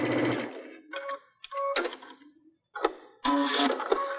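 Baby Lock sewing machine fitted with a Digital Dual Feed accessory stitching through fabric, running in several short bursts of mechanical whirring separated by brief pauses.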